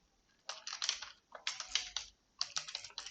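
Three bursts of quick computer-keyboard typing, each roughly a second long with short pauses between, close and fairly quiet, while a name is entered during data entry.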